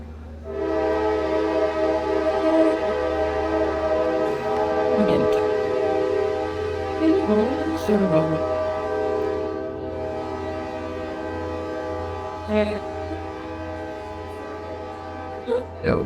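A train horn blares in long sustained blasts at a station as a train rumbles past, loud and near, with faint voices underneath.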